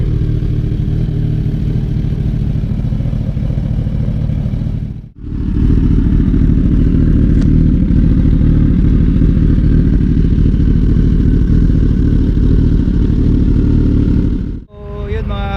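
A 2022 Kawasaki Ninja 1000SX inline-four idles and revs with a loud, steady, close engine drone, broken twice by sharp dips that sound like blips or pauses before the engine picks back up.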